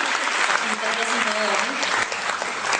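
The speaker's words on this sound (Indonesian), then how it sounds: "Tepuk tangan dong buat kita semua." Audience applause fills a seminar hall, a steady dense patter of clapping held at an even level throughout.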